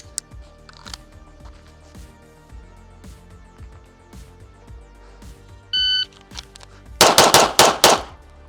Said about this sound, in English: So we're gonna draw fire 3 on the body, 2 on the head.